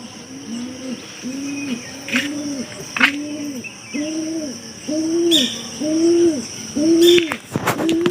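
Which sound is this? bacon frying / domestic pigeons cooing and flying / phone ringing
domestic pigeons cooing and flying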